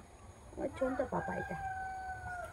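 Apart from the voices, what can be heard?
rooster crowing in a village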